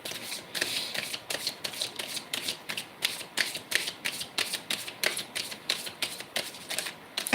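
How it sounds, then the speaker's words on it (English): A deck of tarot reading cards is shuffled by hand in quick, regular riffling bursts, about three per second, crisp and close, with no voices. "They're telling me to shuffle the other way for this reading."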